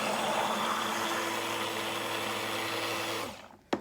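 An electric hand blender whirs steadily through saponified soap batter, a close continuous motor drone that winds down and stops near the end, followed by a single knock.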